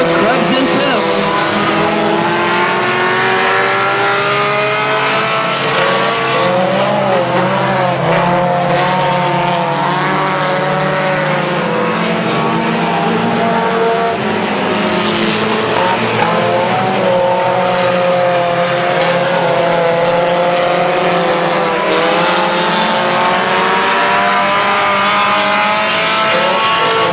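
Race cars roar continuously around a speedway oval at a 250 event, engines loud and sustained throughout, with an announcer's voice running over the racing noise.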